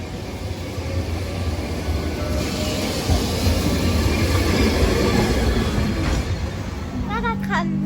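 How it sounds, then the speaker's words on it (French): Tram 28 rumbles and rattles through the city, heard from inside the car as a steady rolling clatter with faint wheel squeal, and a voice begins talking near the end. "On est dans un tram."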